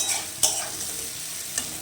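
Carrots frying and sizzling steadily in a pan, with a spatula scraping through them in two brief, sharp strokes; close and alone, no voices.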